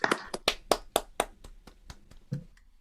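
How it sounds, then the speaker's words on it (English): Applause from a small group at a ham radio club meeting, a run of sharp, distinct hand claps in quick uneven rhythm, loud at first and thinning out toward the end. "So let's have a round of applause for Ned."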